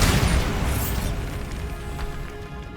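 Bombarda spell blast in the video game Hogwarts Legacy, a loud, deep booming explosion at the start that rumbles and slowly decays over a few seconds.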